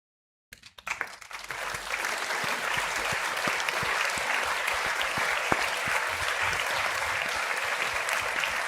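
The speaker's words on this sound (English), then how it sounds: "Do we have the claps queued up?" A canned applause sound effect plays during a Red Sox baseball podcast, marking a player's home run streak: a steady, uniform wash of crowd clapping that starts abruptly after a short silence and runs evenly for about eight seconds.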